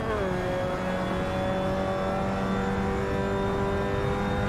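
A Mazda MX5 engine in the video game Burnout Paradise holds a steady, rising rev toward the redline, a continuous buzzing drone with a slowly climbing pitch, loud and close.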